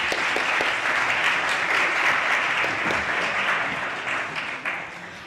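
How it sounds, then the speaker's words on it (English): An audience applauds a panel with steady, dense clapping throughout, moderately loud and close, tapering slightly toward the end. "Could I ask for another round of applause for our panel,"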